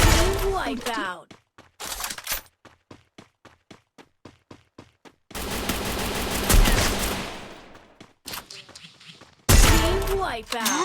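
Gunfire in the Free Fire battle royale game: bursts of rapid automatic shots, a run of evenly spaced single shots, then dense loud volleys, with in-game effects between them.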